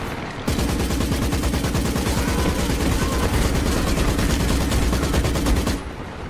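A dense, continuous barrage of rifle and machine-gun fire fills a Company of Heroes 2 battle, loud and unbroken for several seconds before cutting off abruptly.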